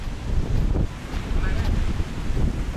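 Strong wind roars across a beach in Pattaya, Thailand, a loud, continuous buffeting rush that batters the microphone with low rumbling gusts from start to finish.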